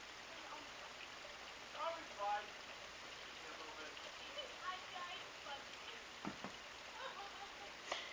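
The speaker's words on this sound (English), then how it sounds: "There's nothing going on except for rain" Rain falls during a storm as a faint, steady hiss of drops on surfaces, with a few louder patters and taps at scattered moments.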